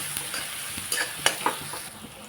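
Vegetables sizzle in a pan for Manchurian rice. A short burst of close frying sounds carries a few sharp scrapes and clicks as they are stirred, and no one speaks.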